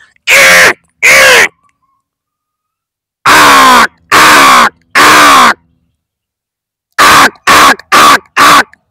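A man mimics the call of a small crow with loud, close, harsh caws: two quick calls, a gap, three longer ones, then a fast run of four shorter caws.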